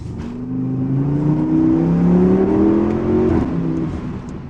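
A 930 hp Audi RS6 nicknamed la Saoudienne revs hard on a cold day, its engine note climbing and wavering in a loud, close, sustained roar before easing off, with no talk over it.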